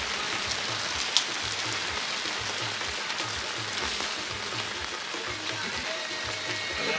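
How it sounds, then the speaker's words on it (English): Rain falls steadily outdoors at Brazeau Reservoir, a constant hiss of drops on surfaces with a faint low pulsing hum underneath and one brief sharp tick. "It's raining."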